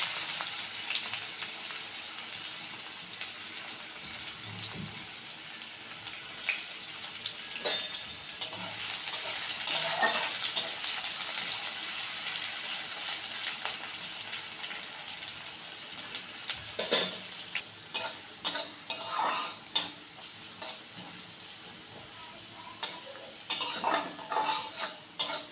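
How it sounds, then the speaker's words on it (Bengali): Chopped onions fry in oil in a kadai with a soft, continuous sizzle, broken by spatula scrapes and metallic clinks that grow sharper and more frequent toward the end. "পেঁয়াজ কুচি দিয়ে দিচ্ছি।"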